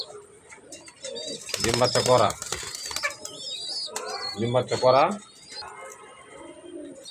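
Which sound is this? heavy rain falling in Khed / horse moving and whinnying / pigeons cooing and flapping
pigeons cooing and flapping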